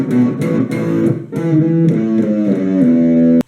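Electric guitar plays a riff with a distorted tone: a run of picked, ringing notes struck in a steady rhythm and played loud and close, with no talking over it.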